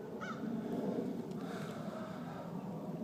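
Crows call at a sunny little cove, with a brief, faint caw and a weaker second call over steady broadband outdoor noise.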